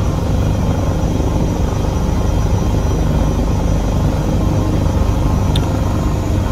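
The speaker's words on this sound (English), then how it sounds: "Alright, we're gonna start flying the helicopter." A helicopter drones steadily and loudly, a dense, even engine-and-rotor roar that holds without pause throughout, heard from inside or close by during a cross-country flight.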